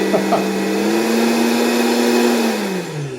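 A Vitamix blender roars steadily at high speed with a strong whirring hum, then starts winding down near the end.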